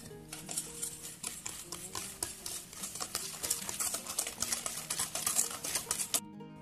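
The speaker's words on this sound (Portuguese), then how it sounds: "para dar um oxigênio na massa, você tem que bater o ovo assim" Eggs, oil and sugar beaten for cake batter, a fast, steady rhythmic tapping and sloshing of a whisk against a bowl, close and continuous for several seconds before stopping abruptly.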